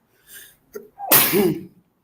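A single loud, close sneeze, with a short catch of breath just before it, cuts into a political discussion about PDP presidential aspirants.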